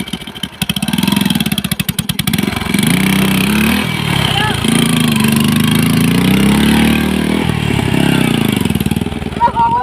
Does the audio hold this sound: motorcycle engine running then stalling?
yes